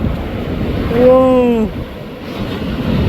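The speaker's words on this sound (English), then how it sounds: "at these waves, bruh." Surf rolls and crashes at an unguarded beach with big waves and wipeouts, a steady broadband roar with wind buffeting the microphone and a voice briefly calling out over it.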